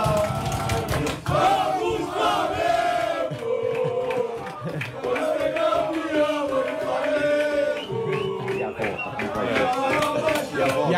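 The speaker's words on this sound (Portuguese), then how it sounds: "E a torcida animada do Flamengo no voo de Bogotá para Guayaquil." Flamengo fans chant and cheer loudly in chorus aboard a passenger flight from Bogotá to Guayaquil, with the crowd's singing voices sustained and close throughout.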